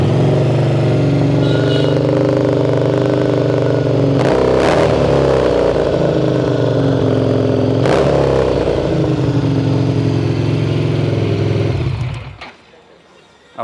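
Harley-Davidson Street 750 ABS motorcycle with 33,000 km on it, its engine idling loud and close with a deep steady throb, blipped twice by sharp revs, then cut off abruptly near the end.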